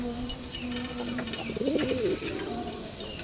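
At a pigeon fair, a pigeon gives a short, soft burst of cooing against a busy background murmur, fairly faint and brief.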